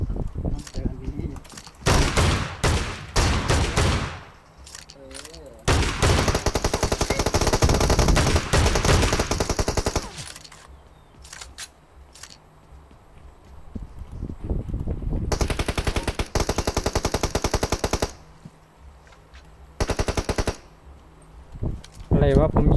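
Automatic gunfire in the mobile battle-royale game PUBG Mobile: several loud, close bursts of rapid fire, some lasting a few seconds, separated by quieter gaps, with a voice talking in between.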